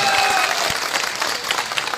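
Audience at a political gathering in Darussalam, Aurangabad, claps in welcome, a brief spell of scattered, moderately loud applause with crowd murmur.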